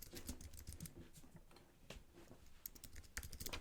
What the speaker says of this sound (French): si je tape une adresse